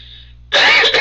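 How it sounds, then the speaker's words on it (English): A single harsh smoker's cough bursts out loudly after a brief quiet hum, close and rough with a raspy throat-clearing quality. "That's a smoker's cough."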